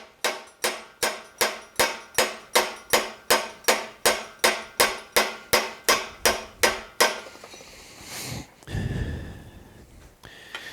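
A blacksmith upsets hot steel on a drift: a fast, steady run of about twenty ringing hammer blows, close and loud, followed by a short pause and softer shuffling and breathing.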